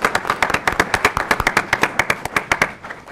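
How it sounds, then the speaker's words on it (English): A panel discussion audience claps, with quick, evenly spaced hand claps ringing out close and fairly loud, sounding like a small group applauding briefly rather than a large crowd. "Can't we clap now?"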